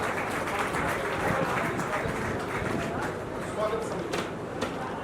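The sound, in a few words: applause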